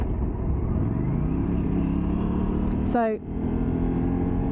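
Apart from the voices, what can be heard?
Aprilia RS457 motorcycle engine, downshifting without clutch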